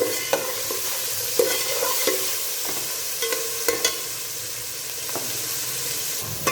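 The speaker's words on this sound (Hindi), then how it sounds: "1 मिनट के लिए सिर्फ टमाटर को हम फ्राई करेंगे।" Tomatoes fry in a pan for aloo cholay chana chaat, giving a steady broadband sizzle, with sharp clicks and scrapes from stirring at irregular intervals throughout.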